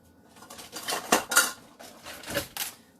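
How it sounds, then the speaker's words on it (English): A metal teaspoon picked out from a jumble of cutlery in a home kitchen, giving several close, bright clattering clinks in short bursts with brief pauses between. "Let me get my teaspoon here."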